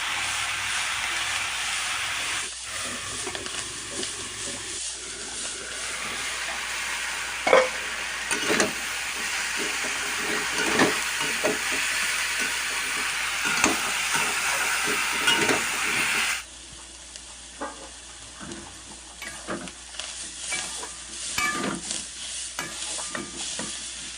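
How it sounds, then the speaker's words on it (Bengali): Chopped bottle gourd and green chillies are stirred in a frying pan, a steady close sizzle and hiss broken by repeated spatula scrapes and taps, with the sizzle dropping quieter toward the end. "তুলে একটু নাড়িয়ে চাড়িয়ে লঙ্কাগুলো দিয়ে দিলাম"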